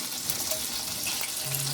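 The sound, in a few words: vegetables heating in pan with butter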